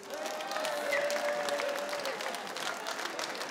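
Audience applause fills a Slovak folk festival stage as a crowd welcomes a band, a steady wash of clapping held at even loudness for several seconds.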